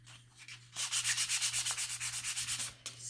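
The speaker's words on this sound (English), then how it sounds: "just give it a sand with the grain" Fine sandpaper rubbed along the grain of wood, a close, rhythmic series of about fifteen quick back-and-forth scratching strokes, with quiet pauses before and after.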